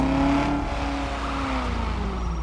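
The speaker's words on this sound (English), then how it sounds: "I think this engine sound did go to a Camaro." Modded car engine sound in GTA 5, a deep rumbling rev with a steady low drone and slowly shifting pitch, loud and continuous without talk.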